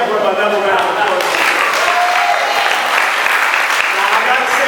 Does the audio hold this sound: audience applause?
yes